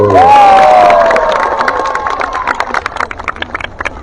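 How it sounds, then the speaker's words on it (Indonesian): Crowd at a political gathering in Surabaya cheering and clapping for Pak Oso, a loud opening shout of voices that breaks into scattered, uneven claps and calls. "Tepuk tangan dulu buat Pak Oso."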